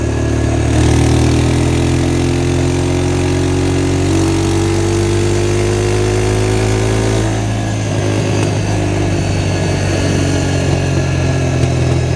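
An old four-wheeler ATV engine, fifteen to twenty years old, runs steadily and loud up close, its droning note rising slowly then dropping and roughening partway through, with no talking.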